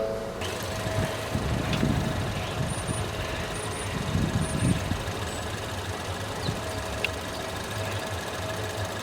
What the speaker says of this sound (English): So I'm going to start my car up first.